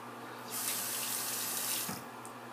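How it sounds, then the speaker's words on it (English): Water from a sink tap runs in a close, hissing burst of about one and a half seconds while someone rinses off after a shave, with quiet room tone before and after. "Okay, so I'm just going to rinse off here a little bit"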